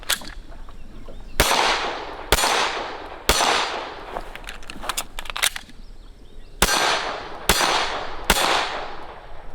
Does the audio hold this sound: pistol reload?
yes